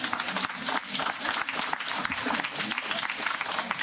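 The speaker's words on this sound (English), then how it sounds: "And I think that also deserves a round of applause." An audience at a community celebration breaks into sustained applause, a continuous crackle of many hands clapping at moderate volume for the whole stretch, with no voices standing out.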